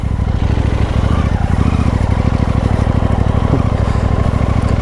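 A new KTM Duke 890 GP motorcycle is ridden, its engine a loud, steady, close throbbing drone under rushing wind that holds an even pace throughout with no one speaking.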